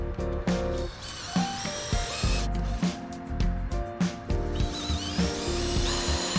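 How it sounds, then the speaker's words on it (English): A power drill bores countersink holes into wood for a slide-out tray under a mobile table saw. The drilling comes in short, repeated bursts, close up and loud, with clunks and handling noise between them. "Drill holes to countersink to mount it in the rear."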